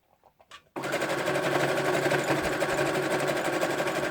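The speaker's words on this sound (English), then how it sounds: "And then I just start going and tacking everything down till hopefully I don't run out of thread." A sewing machine zigzag stitches over fabric snippets to tack them down, a steady, close, continuous mechanical whir after a few soft handling sounds at the start.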